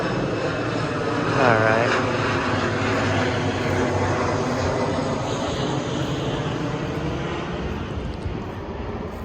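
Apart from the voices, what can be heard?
propeller airplane flying overhead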